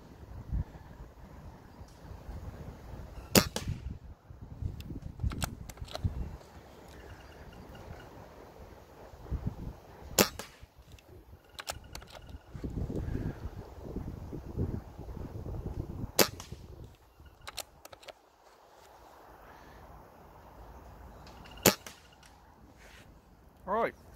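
A Gamo Phox .22 PCP air rifle, charged to 220 bar, firing Gamo Pro Hunter pellets outdoors: sharp single cracks spaced several seconds apart over wind noise and occasional rustling.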